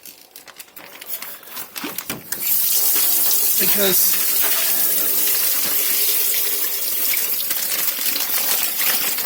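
Cold water runs from a tap as something is rinsed off, starting with scattered splashes and clatter, then settling into a loud, steady gush; a voice speaks briefly near the start.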